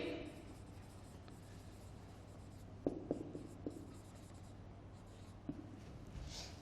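Pen or chalk writing during a classroom lecture on Indian geography, a few short scratchy strokes around the middle and near the end over a steady low hum, with no talking.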